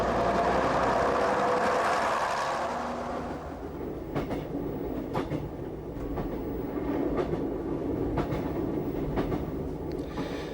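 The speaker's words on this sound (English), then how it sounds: "The branch train is a 2-car Metcam unit." A 2-car Metcam diesel multiple unit rolls along the sinuous Alston branch line, its engine rumble fading from an initial roar into a steady low drone punctuated by rhythmic clickety-clack of wheels over rail joints.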